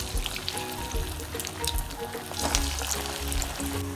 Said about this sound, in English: So we're frying them on low medium heat.